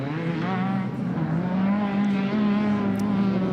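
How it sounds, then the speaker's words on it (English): A Class 10 off-road race car's engine drones at the 2021 Mint 400 desert race, a steady, moderately loud note whose pitch creeps slightly upward. "Here's a Class 10 car. Let's listen to it."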